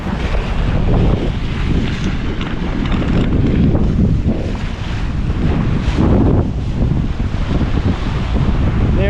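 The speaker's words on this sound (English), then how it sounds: "pretty fast little boat." A small fast boat underway, heavy wind buffeting the microphone over rushing water and splashing hull noise, loud and continuous throughout.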